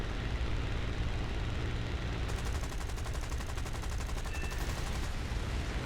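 Aircraft machine guns in War Thunder rattle in a rapid, steady stream over a constant engine roar while diving on a P-40, the firing starting partway through and continuing to the end.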